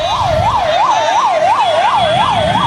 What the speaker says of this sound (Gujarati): જવા દો ભાઈ, એમ્બ્યુલન્સને જવા દો